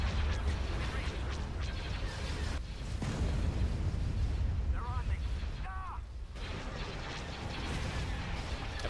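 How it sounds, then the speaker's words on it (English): Heavy rumbling blasts and booming explosions in a Star Wars space battle video game, an enemy Star Destroyer exploding, with whining laser-like tones and dense low roar throughout. "that loud explosion we just heard was the enemy Star Destroyer going up"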